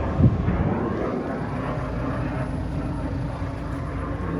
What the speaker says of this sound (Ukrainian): Літаки тут один за одним. Франкфуртський аеропорт.